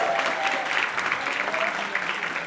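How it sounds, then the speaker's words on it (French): An audience at a Cégep de Victoriaville student talent show final applauds the volunteers, a steady wash of hand claps at moderate volume throughout. "On les applaudit, oui, s'il vous plaît."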